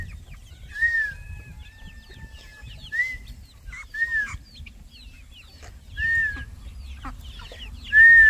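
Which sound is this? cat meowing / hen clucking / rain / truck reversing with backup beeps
hen clucking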